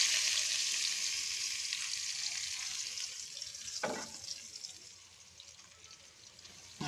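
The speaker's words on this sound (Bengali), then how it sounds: "পেঁয়াজগুলো আমি কষাবো।" Onions frying in hot oil for a Bengali dish, a bright continuous sizzle up close that gradually softens, broken by a utensil clink.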